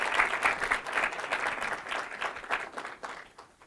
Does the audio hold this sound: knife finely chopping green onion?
no